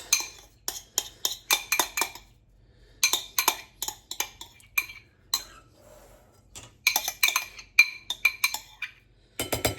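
Potatoes being mashed in a bowl for smoked salmon potato skins, heard as bursts of clinking and scraping of utensil against the bowl, in irregular clusters separated by short quiet gaps, close and fairly loud.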